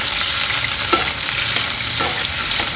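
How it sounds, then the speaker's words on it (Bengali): Chopped onions fry in a pan with a dense, steady sizzle, close and loud. A couple of soft stirring scrapes rise above the hiss, and no one speaks. "পেঁয়াজটা একটা হালকা ব্রাউন বা পিঙ্কিশ করে ভেজে নিলাম"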